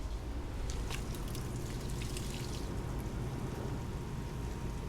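Murky water pours and trickles steadily out of a clogged body drain on a cheap, worn Toyota Camry under rebuild, a continuous close splashing dribble with no talk over it.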